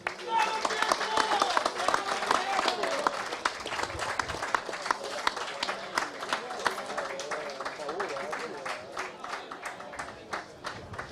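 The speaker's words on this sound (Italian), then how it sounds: "Un grosso applauso al Calcio San Donà." Audience applause at an amateur football gala in Italy, a crowd clapping steadily and loudly for the San Donà club, with cheers and voices mixed into the dense, sustained clapping.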